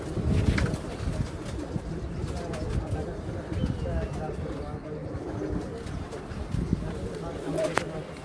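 Pigeons cooing at a bird gallery, low rolling coos running steadily underneath nearby men's conversation, with occasional faint chirps and a brief flutter of wings.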